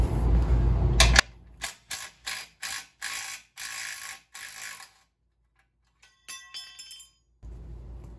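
A wrench working 16 mm bolts off a Jeep JL bumper: a run of short, evenly spaced metallic ratcheting bursts, close and clear, followed by a faint clink, with no talking.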